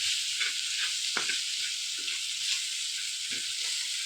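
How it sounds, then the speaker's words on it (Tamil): Onions sizzle and hiss in a pan over low heat, a constant bright frying crackle broken by occasional soft knocks and scrapes of stirring, close and alone without voices. "கொஞ்சம் வெங்காயத்தை நல்லா வதக்கிடுங்க."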